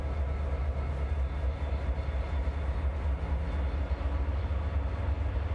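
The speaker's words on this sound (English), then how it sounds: "we got a westbound intermodal train coming" A CSX westbound intermodal freight train passes as a steady, heavy rumble, with a broad roar of rolling cars, loud and continuous throughout, and no one talks.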